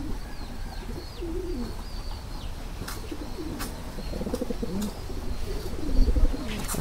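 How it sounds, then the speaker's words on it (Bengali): Lakkha pigeons coo over and over, the soft rolling calls overlapping close by. Occasional thin chirps and a few sharp clicks sit above them against a quiet background. "দেখেন কন্টিনিউ হয়ে কবুতরটা ডাক দিতে আছে"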